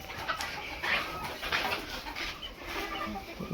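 Free-range village hens cluck softly a few times, faint and somewhat distant, over a quiet background of poultry farm noise.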